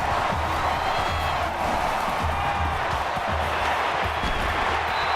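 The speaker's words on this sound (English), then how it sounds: "crowd at this stadium, always a factor in a football game." A video-game stadium crowd at an NCAA Football 14 college football game keeps up a constant, dense roar of cheering and noise, with faint low thumps beneath it.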